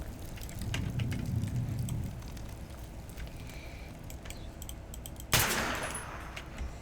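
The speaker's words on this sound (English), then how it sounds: "These guns are really cool." Gunfire in the destructible voxel video game Teardown, rapid bursts of shots with a sharper, louder blast near the end, heard at moderate volume.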